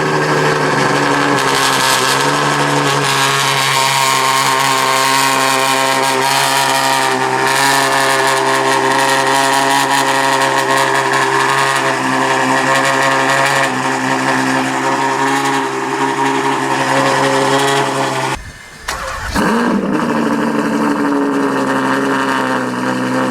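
Novitec Ferrari 812 N-Largo V12 at cold start: a loud, steady high-idle drone with rich sustained engine harmonics held close for over twenty seconds, a brief dip near the end before the tone settles again.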